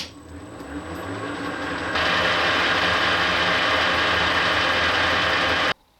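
An old Colchester lathe driven by a VFD spins up, its whirring mechanical drone growing louder and then holding steady and close before it cuts off abruptly near the end.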